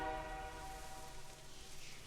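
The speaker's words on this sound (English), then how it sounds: "I got hit by a train?" A train horn in a Roblox video game sounds fairly quietly, a sustained droning blast that fades into low rumbling rail noise.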